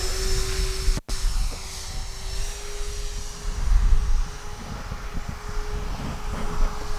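A steady electric motor whine from an E-Flite Twin Timber radio-controlled model airplane holds a constant pitch under a low rumbling hum, broken by one brief dropout near the start.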